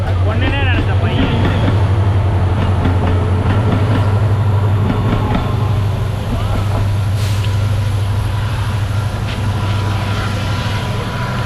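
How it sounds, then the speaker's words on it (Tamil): A train rumbles loudly and steadily past on the rail line along the Dudhsagar waterfalls trek route, a strong low drone with metallic rolling texture, while people talk over it. "ட்ரெயின் வருது"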